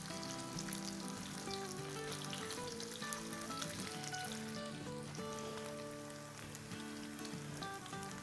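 Resha cutlets or kababs frying in a pan on their second side, a continuous close, dense sizzle and crackle of hot oil with no talk over it.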